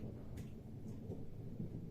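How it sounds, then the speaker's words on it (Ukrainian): Thunder rolls low and steady through a storm with rain, a continuous deep rumble that swells faintly in places and fills the whole stretch without any voices. "О, гримить. Гримить."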